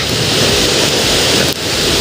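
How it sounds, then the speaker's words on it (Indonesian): A waterfall at the Gurau tourist spot makes a loud, dense, continuous roar of rushing water that fills the scene close up, with no voices. "Ini air terjun ya sepertinya."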